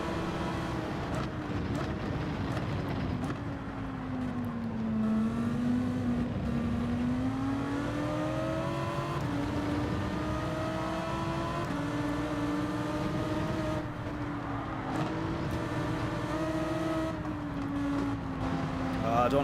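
Racing car engines in Gran Turismo 7, including a Toyota Supra pulling away down a straight, hold a steady drone that rises and falls through gear changes, with a voice talking over them.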